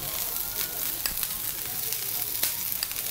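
Oil sizzles steadily on a rava dosa topped with curry leaves and coriander in a hot pan, a close, even crackle with a few light tapping clicks.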